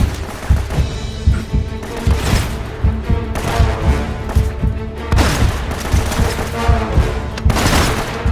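Gunfire and grenade explosions in Uncharted: Drake's Fortune, with dense, loud volleys of shots and heavy booms overlapping continuously, and no talking.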